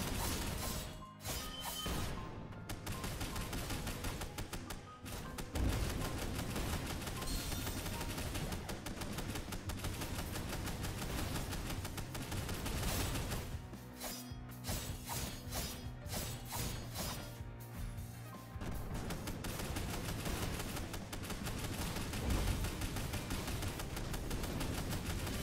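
Rapid gunfire from the player's weapon during a boss fight in Ender Magnolia, dense continuous bursts mixed with crashes and game effects, loud and sustained with short breaks.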